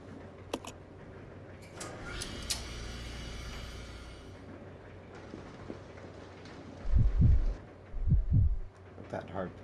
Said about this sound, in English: That heartbeat is so cool.